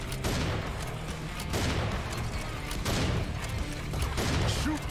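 Rapid weapon fire in Serious Sam 4 multiplayer, with steady loud bursts of shots repeating every second or so over continuous action noise, with players talking at times.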